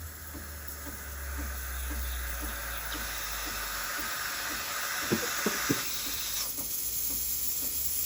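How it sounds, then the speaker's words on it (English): A Breville Barista Express BES870BKS steam wand hisses steadily with a soft rhythmic pulsing from the pump, building slightly and then shifting in tone near the end, close and moderately quiet with no talk. "when I hear the pumping or pulsating, that's about that's when it starts steaming"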